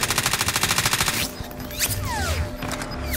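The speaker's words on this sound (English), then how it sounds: "He's getting shot at." Rapid automatic gunfire from Call of Duty Warzone on the Verdansk Resurgence map, a fast burst of evenly spaced shots for about a second, then scattered distant game effects and whooshes.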